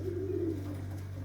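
A breeder pigeon gives a low, drawn-out coo close by, over a steady background hum.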